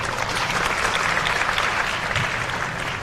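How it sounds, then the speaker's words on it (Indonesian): Steady applause from an audience of student council leaders at a school gathering in Jakarta, a dense, even wash of clapping that holds at one level throughout with no voices over it. "Tepuk tangan dulu."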